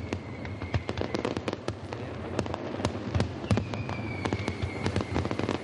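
A nighttime fireworks display by a Valencia pyrotechnics company over Pamplona. Dense, rapid crackles and sharp bangs pop continuously, with whistling streaks rising through a steady roar of bursts.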